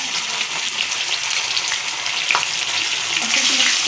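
Ginger garlic paste fries in about half a cup of hot oil in a pan, a loud, dense, continuous close sizzle with occasional soft stirring scrapes and no speech.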